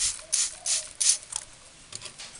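A handheld spray bottle mists water over a small caged bird during a bath: several quick hissing squirts in irregular bursts, close by, with faint rustling between them.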